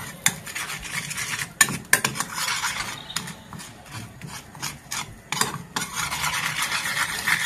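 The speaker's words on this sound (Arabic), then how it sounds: "غادي نخلطو مزيان مع هاد الزيت حتى كيتجانسو كيولي لينا خليط واحد" A spoon stirring spices into vegetable oil in a bowl, continuous close scraping and rubbing with a few sharp clinks of metal against the container, no voices.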